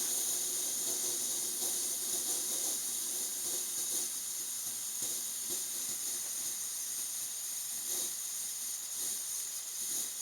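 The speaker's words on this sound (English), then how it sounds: "You can see that that flame is pretty much down to a simmer" An MSR WhisperLite Universal camping stove burns gasoline with its flame turned down to a simmer, giving a steady, even hiss that runs the whole time with faint crackles.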